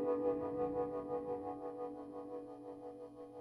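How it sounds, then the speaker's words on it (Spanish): Guitar run through a Strymon Flint pedal with tremolo feeding into reverb, sustained chords pulsing in a steady rhythmic throb and washing into a reverberant tail, played alone at moderate volume. "Si lo ponemos hacia la izquierda, primero la señal va a pasar por el lado del trémolo y después se va a sumar con la reverberación."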